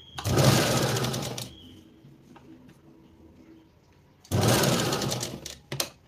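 A sewing machine topstitching a princess blouse runs in two fast, steady bursts of stitching, the first lasting over a second, then a quiet pause before the second burst starts up again.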